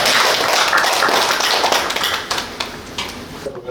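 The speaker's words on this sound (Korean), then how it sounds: "힘찬 박수 한번" An audience at a church lecture claps for invited speakers. The applause is loud and dense at first, then thins into scattered, fading claps over a few seconds.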